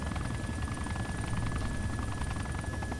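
Helicopter in the video game DayZ, a steady loud rotor drone with dense low-frequency chopping and a constant high whine, continuous throughout with no talk over it.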